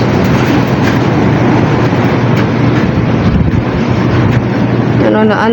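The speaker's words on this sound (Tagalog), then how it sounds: "sobrang lakas ng hangin" Loud, constant wind roars and buffets the microphone throughout, a dense rushing noise with no letup, in a coastal area with strong waves.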